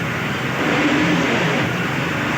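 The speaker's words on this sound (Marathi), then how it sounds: "गाडी मागं घेऊन बाहेर पडेपर्यंत आपल्याला वेळ लागत आहे" An MSRTC bus engine runs with a steady mid-pitched drone while the bus reverses out of a crowded Kolhapur bus station, the rumble filling the space and swelling slightly partway through.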